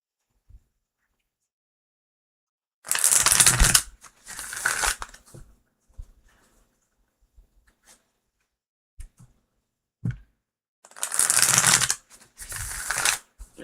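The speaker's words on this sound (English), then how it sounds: "Oh, that's a good shuffle." Tarot cards shuffled in two pairs of loud, close bursts of riffling and snapping, with a few soft taps and brief quiet gaps between them.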